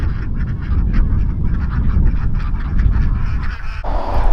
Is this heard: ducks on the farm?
yes